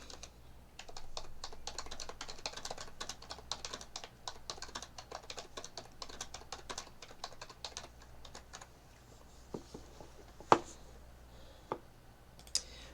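Rapid, continuous typing on a computer keyboard, soft and close, with bursts of key clicks for several seconds, then a few scattered louder taps and clicks toward the end.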